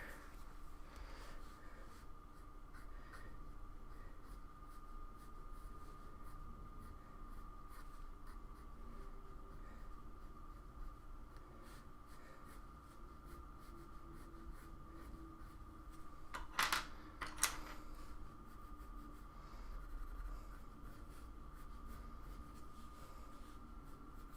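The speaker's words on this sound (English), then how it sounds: "if I go through and outline it with the darker pencil" A darker pencil scratches steadily along the lines of a drawing, a faint continuous scraping that runs on and on with a brief louder tap partway through.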